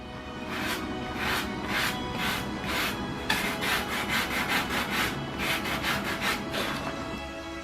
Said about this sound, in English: I sanded down the edges.